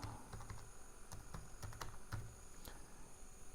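Keys tapped on a computer keyboard in a quick, uneven run of clicks, close and fairly quiet, with no talking.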